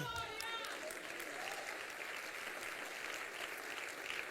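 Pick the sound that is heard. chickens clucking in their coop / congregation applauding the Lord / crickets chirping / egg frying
congregation applauding the Lord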